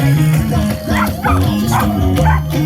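A frisbee-juggling performance dog barks in short bursts at the Yorkton summer fair exhibition in Saskatchewan, the yips set against loud music playing throughout.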